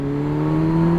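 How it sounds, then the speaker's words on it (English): A 2011 Kawasaki Ninja 1000 motorcycle engine holds a high, steady rev, a loud close whine with strong sustained tones, alone without speech. "It's too high revving."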